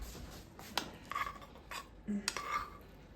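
A few light metallic clinks of a spoon and cutlery against dishes in a kitchen, close by, with a soft rubbing sound between them; no talking.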